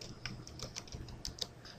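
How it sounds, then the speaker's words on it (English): Quiet keystrokes on a computer keyboard tap in an irregular run of light clicks while text goes into a spreadsheet, close by and with no voice over them. "When I'm finished typing the input message"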